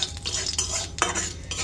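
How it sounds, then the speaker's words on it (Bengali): Panch phoron spices frying in oil in a wok, a bright crackling sizzle with brief scraping stirs and a sharp pop near the middle. "5 ফোড়নটাকে হালকা করে তেলে আমি ভেজে নিচ্ছি"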